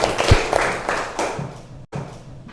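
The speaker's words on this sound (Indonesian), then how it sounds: "tepuk tangan untuk kalian semua" Classroom students clapping hands together after a focus-clap routine, a short burst of claps in an indoor room, loud and close, fading after about a second with a brief silence.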